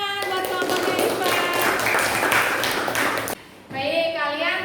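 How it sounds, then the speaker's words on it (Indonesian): A class of students claps for a student group in a classroom, a loud burst of mixed applause with children's voices talking through it before it cuts off abruptly, then voices continue. "tepuk tangan buat kelompoknya Iva"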